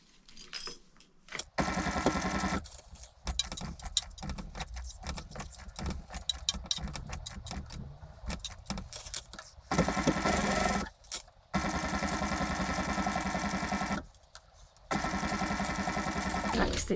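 A home sewing machine stitches an embroidery scissors case with a slightly grumbling motor, running in several bursts separated by short pauses, close and fairly loud, with no talking over it.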